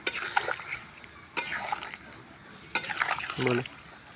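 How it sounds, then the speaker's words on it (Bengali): Fried fritters dropped one by one into a simmering cauliflower curry gravy, giving three soft splashes at regular intervals with a quiet bubbling in between. "এবার আমি সে বড়াগুলো একে একে ঝোলের মধ্যে দিয়ে দিচ্ছি"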